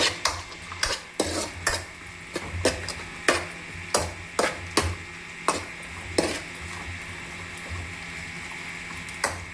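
Raisins fry in ghee in a pan while a spoon repeatedly scrapes and stirs, giving sharp irregular metallic strokes over a soft, continuous sizzle that grows quieter toward the end.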